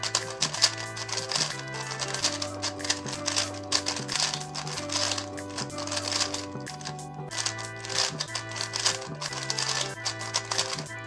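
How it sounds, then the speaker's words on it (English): A 3x3 puzzle cube is turned in quick bursts, giving dense, sharp plastic clicks and clacks close up over an ongoing musical backing, with no talking. "it is a very clicky clacky cube"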